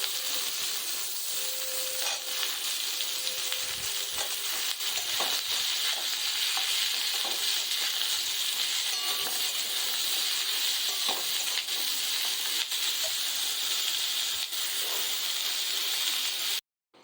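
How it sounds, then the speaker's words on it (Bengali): Onion frying in a pan gives a steady, even sizzling hiss that runs unbroken and fairly close, with a few faint clinks and stirring taps, and no talking. "পেঁয়াজটা একটু ভাজা হয়ে আসলে এবার পটলটা দিয়ে দেবো।"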